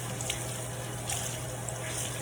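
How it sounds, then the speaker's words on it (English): Warm water runs steadily from a tap into a sink while a makeup sponge is washed with antibacterial soap, a soft continuous hiss with faint splashes and a low hum underneath. "Antibacterial soap is usually what I use, and some warm water."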